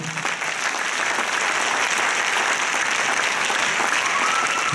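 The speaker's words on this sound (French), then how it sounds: "Vous pouvez acclamer pour elle." A church congregation in Congo-Brazzaville bursts into loud, sustained applause, a dense wash of clapping hands that fills the hall throughout, with faint voices mixed in.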